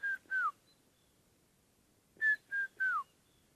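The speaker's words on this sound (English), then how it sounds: "he's heard a red-chested cuckoo, pit mevrouw, just heard one calling there" Clear whistled calls of a red-chested cuckoo, two notes then a pause and three more descending notes, loud and close against a quiet background.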